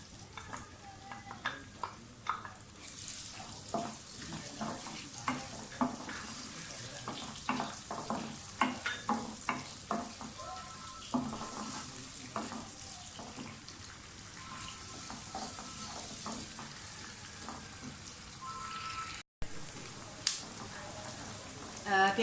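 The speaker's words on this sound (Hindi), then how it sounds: "सिर्फ चंद सेकंड्स के लिए इनको फ्राई कर दें और साथ ही प्याज डाल दें।" Whole spices and onion frying in a pan for a pumpkin and chana dal dish, a steady sizzle broken by scraping stirs and clinks of a spoon, with a brief dropout near the end.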